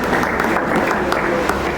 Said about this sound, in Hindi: इनका भी आप तालियों के साथ अभिनंदन करें।